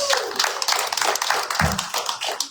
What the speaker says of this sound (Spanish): Denle un gran aplauso al Rey de Reyes